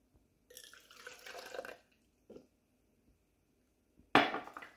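Half a cup of water is poured into a container while vegan ranch is being made, a short splashing pour, then silence, then a sharper, louder splash at close range.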